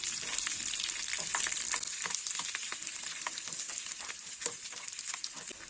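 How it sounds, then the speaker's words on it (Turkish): A handful of chickpeas sizzle steadily in hot butter in a pan, a constant crackling fry with small pops throughout, close and fairly quiet, no voices. "Şimdi içerisine şöyle bir avuç kadar nohut ilave ediyorum. Bunları da bir dakika gibi bir süre tereyağın içerisinde kavuracağım."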